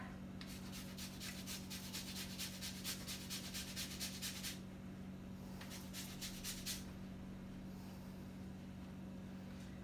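A lemon rubbed against a zester in a home kitchen, giving quick rhythmic rasping strokes in two bursts, the second shorter, over a steady low hum.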